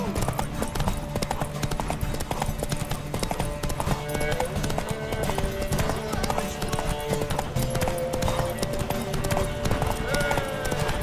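Horse hooves clip-clop at a steady gallop during a race in The Witcher 3, a continuous rhythmic pounding under game music and shouted speech urging the mare on.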